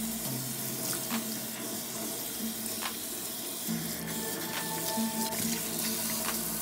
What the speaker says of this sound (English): And wet up the hair.